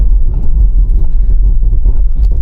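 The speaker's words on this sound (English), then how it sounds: "Now let's do a brake test, see how long it takes it to stop from 60 miles an hour" A Range Rover Sport brakes hard from 60 mph on a wet road, giving a loud, steady low rumble of tyres and road noise throughout, with faint pulsing that fits ABS working.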